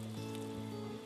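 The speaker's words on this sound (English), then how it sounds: "So all I'm going to do is put this under hot water like this, really hot water." Very hot tap water runs steadily over a plastic glue dispenser to soften it, making a soft, continuous splashing hiss at low volume.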